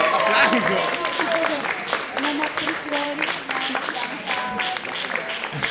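Crowd applause with scattered clapping at a debate, mixed with people talking and chattering loudly throughout.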